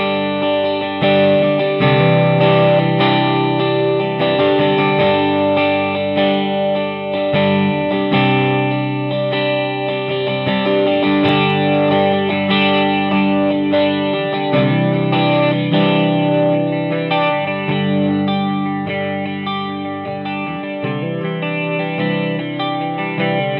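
Electric guitar running through a chorus pedal on a pedalboard, a shimmering doubled tone as if several guitars play together, sustained chords and lightly picked notes, loud and close with no talking.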